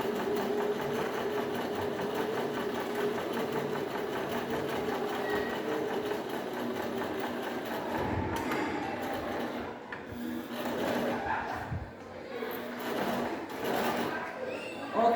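A sewing machine runs a plain seam with a steady, close mechanical whir, then turns choppier and more uneven toward the end as the stitching slows and reverses.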